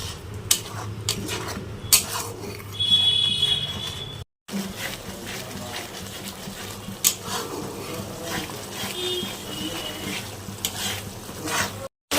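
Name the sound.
spice paste being fried and stirred in a pan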